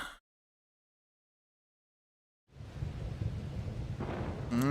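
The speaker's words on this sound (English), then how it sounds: "That's rain." Rain and thunder from a Zelda video game trailer: after a short silence, a dense, steady roar of rain and rumbling thunder swells in, fairly loud, with a brief higher tone near the end.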